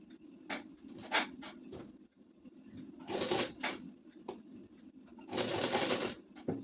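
A sewing machine stitches a ladies suit in short rattling bursts, several quick runs separated by pauses, close and moderately loud with faint clicks between.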